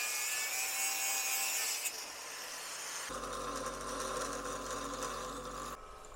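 A hand saw cutting the handle off a wrench in a home workshop, rasping back-and-forth strokes close by, the tone changing partway as the cut deepens, no speech.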